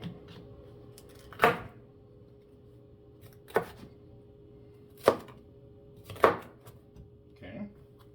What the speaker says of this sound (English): I'm going to cut these peppers now